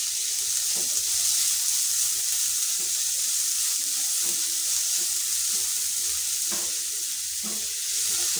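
Chopped onion for a spicy puli pitha filling fries in a pan with a steady, close sizzling hiss, broken by occasional faint clicks of stirring.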